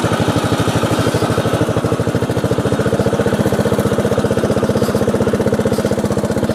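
A racing lawn tractor engine runs close and loud with a fast, even firing pulse, idling slightly high while warm, steady throughout with no talking.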